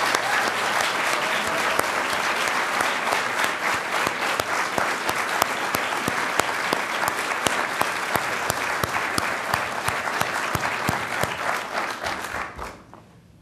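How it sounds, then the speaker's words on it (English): Sustained applause from an audience at a city's state of the city address, honoring a police department basketball team; dense, steady clapping fills the room for about thirteen seconds before tapering off at the end. "Stand up, guys, and take a round of applause."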